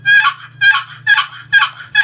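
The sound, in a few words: turkey call imitating gobbler yelp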